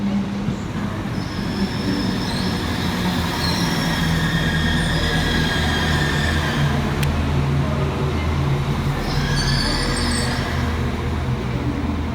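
A Northern passenger train, unit 195132, rolls into Manchester Victoria station with a steady rumble of wheels and high metallic squeals from the rails as it slows, loud and close.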